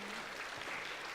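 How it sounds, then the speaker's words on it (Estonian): Audience applause at a youth mental health event, a dense, even patter of clapping from a crowd, held steady and fairly quiet throughout the short burst. "Talle ka veel üks aplaus siis."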